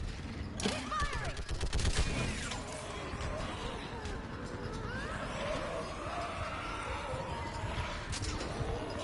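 Gunfire in the Mass Effect Legendary Edition video game, a loud burst of rapid weapon shots early on, then continued scattered firing and crashing under combat chatter and shouting voices.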